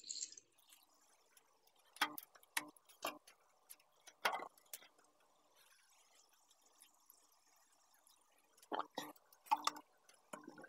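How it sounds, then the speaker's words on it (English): Water dripping from a drip acclimator line into a container while acclimating freshwater aquarium shrimp, a scattered series of small sharp drops and ticks over a quiet background, with faint talk in places. "All right, so that's the drip acclimator."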